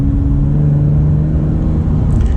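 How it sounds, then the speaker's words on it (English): A 2017 Acura NSX hybrid fitted with a Science of Speed exhaust holds a loud, steady engine drone close up, a sustained hum with no voices over it. "Now this has a Science of Speed exhaust, so this is probably the best sounding NSX I've ever driven"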